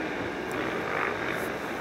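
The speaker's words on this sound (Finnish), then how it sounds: "Kato tuo toinen lentokone." A propeller airplane passes overhead during an outdoor race event, a steady broadband engine drone holding at moderate, even loudness throughout without talk.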